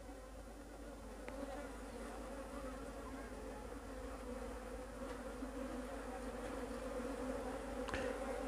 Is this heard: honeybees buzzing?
yes